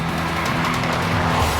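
Car tires skid and squeal loudly under braking as a driver pumps the brake, a brief, harsh, continuous screech mixed with engine noise, close up.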